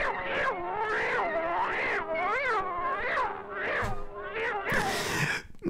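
Cartoon cat in a Disney Mickey Mouse short being spun around, letting out a string of wavering, rising-and-falling yowls and screeches, loud and continuous, ending in a harsh noisy burst.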